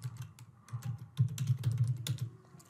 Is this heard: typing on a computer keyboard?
yes